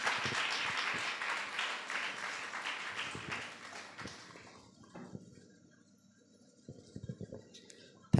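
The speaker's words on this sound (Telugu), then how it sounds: "దైవజనులను చప్పట్లు కొడుతూ మనం ఆహ్వానిద్దాం" Church congregation at a monthly worship service claps in welcome of the preacher, a dense burst of applause that fades over several seconds, followed by a few scattered claps and rustles.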